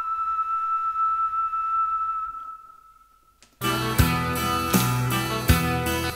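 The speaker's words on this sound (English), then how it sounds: "Let's just have a quick listen to the whistle." A clear, sustained whistled note holds and fades to near silence, then a loud band with punchy drums suddenly kicks in.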